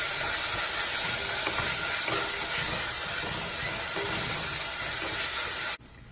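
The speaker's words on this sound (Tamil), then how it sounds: "வெங்காயம் நல்லா வதங்கிடுச்சுங்க" Onions sautéing in oil for a plain biryani make a loud, continuous hissing sizzle that holds steady and then cuts off abruptly near the end, with no talking.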